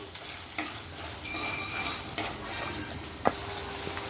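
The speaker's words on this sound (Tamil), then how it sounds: "இப்போது வெங்காயம் வந்து நம்ம இலக்கி கொடுக்கலாம் கொஞ்சம் வதங்கட்டும்" Small onions sauté in a pan with a steady, close sizzle, and a utensil stirs them with occasional scrapes and one sharp knock against the pan.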